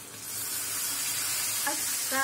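Prawns and chopped chilli sizzle in hot oil with a steady, close frying hiss, and a few brief scraping stirs come near the end.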